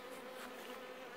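Honey bees buzzing densely around hives at an apiary, a continuous close, even hum of many wings with no voices.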